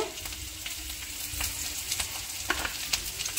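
Capsicum frying with green chilli and salt in a pan, a steady soft sizzle with light intermittent stirring clicks, close but fairly quiet throughout.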